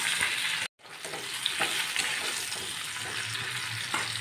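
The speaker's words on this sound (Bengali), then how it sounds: "আর এদিকে আমার আলু আর পেঁপেটা ভাজা হচ্ছে" Potato and papaya pieces frying in a pan while mutton curry is prepared, a continuous close sizzle and crackle of hot oil with light stirring scrapes and a brief dropout near the start.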